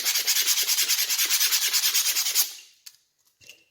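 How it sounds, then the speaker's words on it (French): Craft material sanded by hand to give a waffle texture, a rapid rhythmic series of about twenty close rasping strokes that stop abruptly, followed by a couple of faint handling taps. "poncer."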